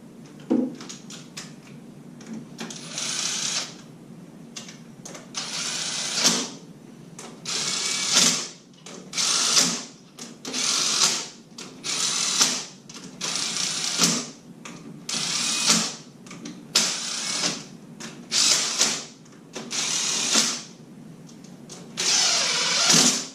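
A ratchet wrench torques the bolts on a Tubeworks 1000 watt alternator install, in repeated bursts of rapid clicking, about a dozen strokes with brief pauses between them, close and clear.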